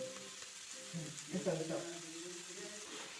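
Tomatoes fry and sizzle in a pan for a homestyle mushroom curry while being stirred, a soft steady crackle with scraping movement beneath a voice speaking close by.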